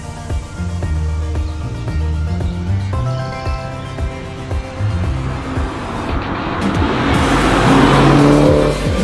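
A 2019 MINI Cooper JCW hot hatch driven hard on open roads with its exhaust opened up, engine revving through gears with rising and falling pitch, building to a loud, rushing roar near the end.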